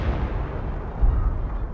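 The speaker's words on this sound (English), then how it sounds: "Number four gun, barrage. Two HE gunfire." A World War II 25-pounder artillery barrage in the Company of Heroes strategy game, a dense, rumbling roll of cannon fire and distant explosions heard continuously, with no talk.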